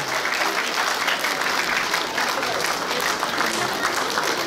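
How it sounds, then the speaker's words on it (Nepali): Steady, dense applause from an audience at a Kirat cultural program in Columbus, Ohio, clapping continuously and fairly loud throughout without a break. "यो मायाको अलिक जोरदार ताली पुगेन भन्दै हुनुहुन्छ नि त"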